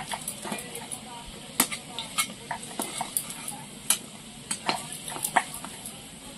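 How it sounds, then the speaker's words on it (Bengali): Potatoes fried until reddish-brown in a pan, heard as a low background sizzle broken by frequent sharp clinks and scrapes of a utensil against the pan, close and fairly quiet. "আলুগুলো লাল লাল করে ভেজে নিয়েছি, এবার তুলে নেব।"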